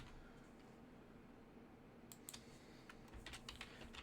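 Computer keyboard typing, faint and close, with a few quick bursts of key clicks after a quiet stretch of room hiss.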